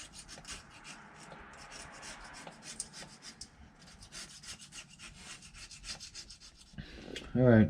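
A hand scraper grinds steadily across the gasket surface of a MaxxForce DT engine block on an International WorkStar truck, a close, continuous rasping with rhythmic strokes, ending in a louder knock.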